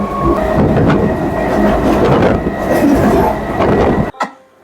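Inside a near-empty passenger train in motion on the way to Naihati Junction, a steady loud rumble of wheels and carriage fills the cabin continuously, ending abruptly in near silence.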